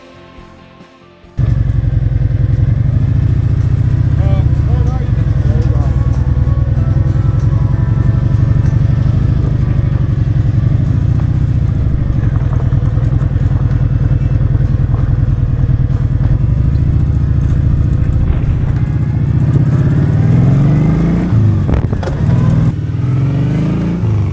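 A Vulcan motorcycle starts up and rides off, its engine loud and close with a steady rumbling drone that holds for over twenty seconds, shifting pitch slightly as it pulls away.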